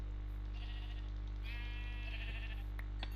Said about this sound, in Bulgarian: първата овца ще е тази